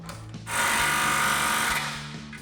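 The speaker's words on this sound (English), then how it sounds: "we'll take a 15mm socket to tighten down the clamp on our driver's side" A 15mm socket driven by a power tool tightens the driver's side exhaust clamp on a Camaro's axle-back system, giving one sustained, loud buzzing whir of about a second and a half that then tapers off.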